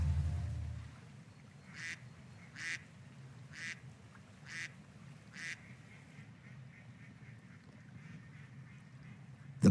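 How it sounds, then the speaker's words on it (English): Mallard ducks quacking in open water, a run of five or six short evenly spaced quacks at moderate distance over a quiet outdoor background, then falling silent. "Mallard ducks within striking distance."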